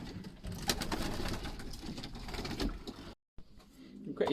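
Racing pigeons in an aviary coo softly and flutter against a dense, noisy backdrop of rustling and shuffling. The sound cuts out briefly and then resumes, and a few brief call-like notes stand out.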